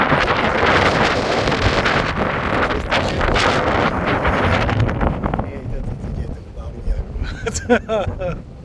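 Steady wind rushes and buffets the microphone, with rumbling gusts throughout and faint chirping sounds near the end.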